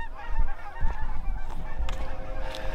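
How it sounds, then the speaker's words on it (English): Several geese honk repeatedly in a loose, overlapping chorus as they fly south for winter, moderately near, over a low steady rumble of wind on a farm. "We got some geese going south here for the winter."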